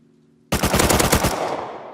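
Automatic gunfire in the online survival game Rust: after a short quiet hum, a loud rapid burst of shots cracks out in quick succession and then tails off into fading echo.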